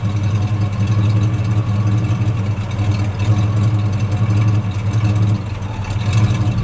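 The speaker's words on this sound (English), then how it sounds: "We're just going to let that idle for a second." A 1963 Ford Falcon Futura's factory 260 cubic-inch V8 idles steadily through a single exhaust with a deep, rumbling low throb, loud and close, holding an even pitch throughout.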